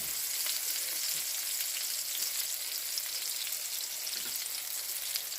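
Cabbage rolls fry in oil in a pan, giving a steady, dense sizzle with crackling pops that holds at an even level throughout, with no talking.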